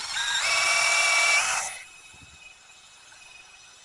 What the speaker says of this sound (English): Good old drill bit saves the day.